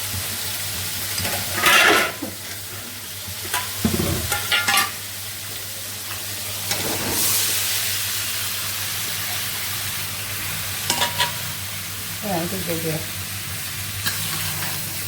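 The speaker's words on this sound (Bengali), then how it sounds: "মশলার সঙ্গে মিশিয়ে দিচ্ছি তরকারিটা।" Vegetable curry stirred into fried spices in a pan, a continuous sizzle broken by several scraping stirs and clatters of the spoon, with a steady background hum.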